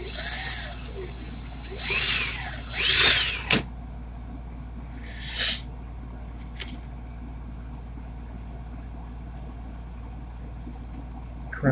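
A hand drill twists 28 gauge wire leads in a few short bursts, each a rising whine that spins up and stops, followed by a brief clack and a near-silent stretch.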